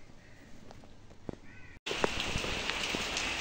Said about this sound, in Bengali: আর ঘরে না ঢুকতে ঢুকতেই 1 ফোঁটা 2 ফোঁটা বৃষ্টি পড়তে আরম্ভ হয়ে গেছে।